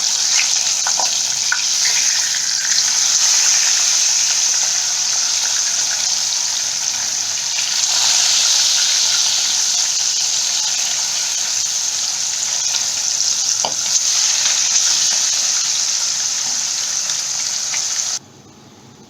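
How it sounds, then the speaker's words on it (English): Pieces of Katla fish fry lightly in hot oil, giving a loud, continuous close sizzle with faint pops and crackles. It runs steadily and cuts off abruptly near the end. "So all the fishes have been fried."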